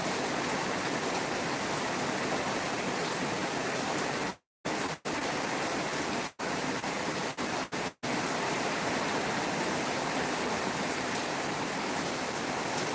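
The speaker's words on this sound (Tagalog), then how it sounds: "grabe ang lakas ng ulan" Heavy typhoon rain from Typhoon Nando pours in a dense, continuous roar throughout, with a few brief dropouts in the middle and no voices.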